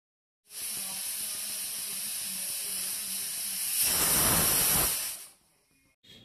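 Pressure cooker on a gas stove cooking Punjabi sarson ka saag, releasing a steady loud hiss of steam that swells into a stronger rushing burst for about a second before cutting off.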